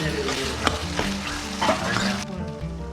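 Tomato, field beans and peanuts sautéed in a pan, a loud crackling sizzle with repeated stirring scrapes and clinks, fading abruptly near the end.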